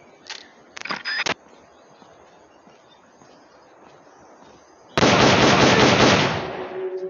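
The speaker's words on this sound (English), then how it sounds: "hear that? Gunshots!" A few quick bursts of sharp gunfire early on, then a loud sustained blast of noise that lingers and slowly fades, like game weapon fire, from Metal Gear Solid: Peace Walker on PSP.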